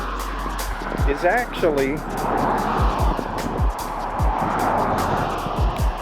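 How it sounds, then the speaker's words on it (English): Road traffic beside a marshy tide-gate area, with cars swishing past one after another in a steady stream while someone speaks over the continuous roar on an outdoor walk. "I know we've got all this traffic going on"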